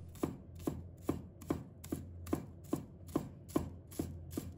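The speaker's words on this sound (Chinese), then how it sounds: "把葱白切成小粒。" A knife chops scallion whites into small pieces on a cutting board, about a dozen crisp, evenly spaced thuds at a steady rhythm, close and clear with no talking.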